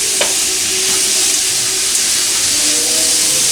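Chicken and dumplings ingredients sauté in a hot pan with a loud, steady sizzle and hiss, stirred continuously, with a few faint scraping clicks and no talk.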